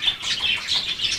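Pet talking birds kept at home chirp in quick, high, repeating bursts, a short lively run of calls heard close with no speech.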